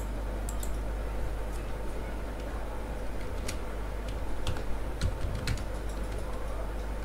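Scattered keystrokes and clicks on a computer keyboard while working in MS Access, light irregular taps over a constant low hum of room noise.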